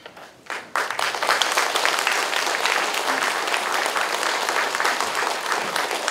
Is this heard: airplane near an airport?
no